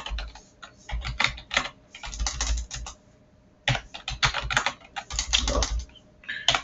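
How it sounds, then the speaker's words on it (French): Close-up clatter of a computer keyboard as code is entered in Visual Basic, quick bursts of keystrokes broken by short pauses, with no voices. "J'appuie pas la bonne touche."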